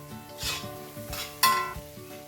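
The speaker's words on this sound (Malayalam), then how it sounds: "നന്നായിട്ട് ഇളക്കി കൊടുക്കാം." A utensil scrapes around a pan of egg masala in a few slow strokes over a low sizzle, ending with a sharper metallic clink, up close with no talking.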